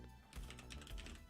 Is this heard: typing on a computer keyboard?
yes